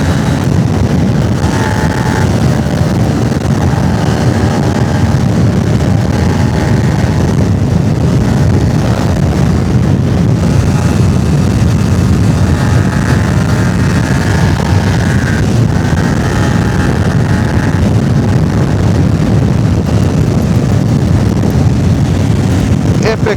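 A Kawasaki Ninja 250 motorcycle engine accelerates on a road in Malaysia, a steady drone with rising revs that sits under heavy wind rush across the whole stretch.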